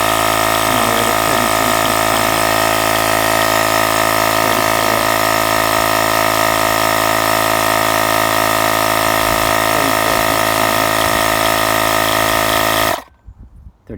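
An Oasser portable air compressor drones loudly and steadily with a buzzing mechanical hum while inflating a tire, close up, then cuts off abruptly near the end, leaving brief quiet handling noise.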